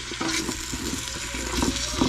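Ingredients for potato soup sautéing in a pot, a close, continuous sizzle with soft stirring scrapes and bubbling, no talking.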